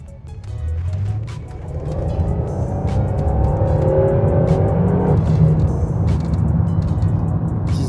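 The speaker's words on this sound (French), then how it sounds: "Ça accélère, j'ai envie de dire, j'ai les mêmes ressentis de poussée que dans un avion." Pontiac Grand Prix GTP accelerating hard with four people aboard: a loud, sustained engine roar rising steadily in pitch with heavy wind and road noise inside the cabin, no talking.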